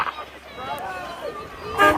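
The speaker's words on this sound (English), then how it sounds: "And hilarious that he's honking." A truck horn honks amid street noise and crowd chatter, a brief toot audible at the start and a louder blast near the end, with voices murmuring underneath.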